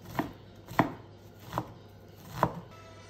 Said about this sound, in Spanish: Una vez picado el cilantro, picamos también cebolla